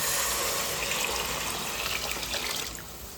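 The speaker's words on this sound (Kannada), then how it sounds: "ಇವಾಗ ಇಷ್ಟು ನೀರು ಹಾಕಿದ್ದೀನಿ" Water poured into boiling gravy in a pot gives a steady, fairly loud splashing rush that holds for nearly three seconds and then trails off, with no talk.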